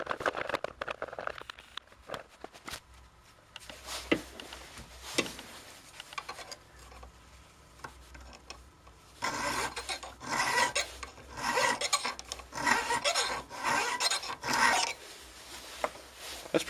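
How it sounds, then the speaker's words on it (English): A hand file rasps across a hardened steel wrench clamped with gauge blocks in a vise, first in scattered short strokes, then after a pause a run of longer, louder back-and-forth strokes up close, with no talking. "we'll take our gauge blocks and do a little filing"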